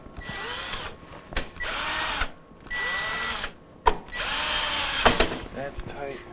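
Power drill driving screws into a refrigerator bracket during a Sub-Zero repair: several separate high-pitched whirring bursts, each rising then stopping, close and fairly loud, with brief gaps between them.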